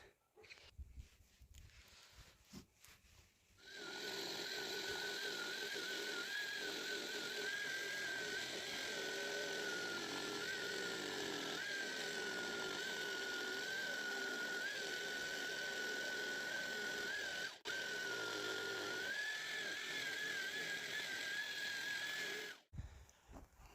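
Jigsaw cutting through metal wheels, a loud, steady buzzing whine that holds for nearly twenty seconds after a short start and stops abruptly near the end.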